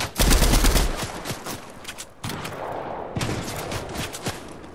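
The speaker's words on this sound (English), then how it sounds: "Oh yeah, I'm getting shot from the supply drop." Rapid gunfire in an online battle game near a supply drop, with dense bursts of shots at the start and more scattered shots after, loud and close, with no speech.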